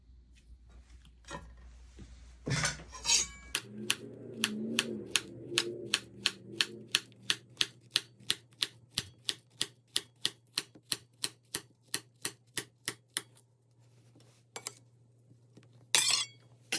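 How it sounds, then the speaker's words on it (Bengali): Knife slicing a banana on a cutting board during snack preparation: a long run of quick, evenly spaced taps, about three per second, crisp and close over a faint low hum, with a few scattered knocks before and after. "এই যে আমি ওখানে একটা ব্যানানা কেটে নিব স্লাইস করে।"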